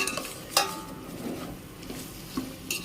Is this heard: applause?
no